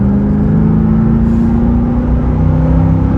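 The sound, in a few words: 1993 Chevrolet Corvette C4 accelerating hard in third gear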